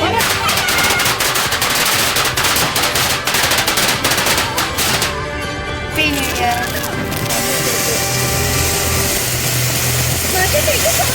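Firecrackers burst at midnight on New Year at Konchikadavu, a dense, loud, machine-gun-like crackle of rapid pops that runs almost without a break, with voices faintly underneath.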